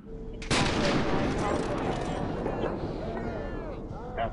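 A gunshot in a GTA 5 police mod replay, a sharp loud blast followed by a sustained rumbling echo and scattered noise, with a second smaller hit near the end.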